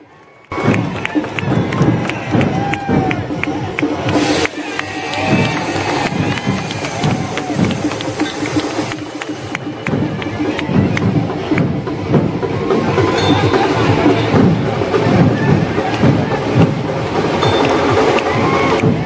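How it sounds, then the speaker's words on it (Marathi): A large crowd cheers and shouts continuously at a street welcome procession for Olympic bronze-medal shooter Swapnil Kusale near the Rajaram Maharaj statue, a loud, dense roar of voices throughout. "तर पब्लिकांचा जल्लोष तुम्ही बघा किती आहे."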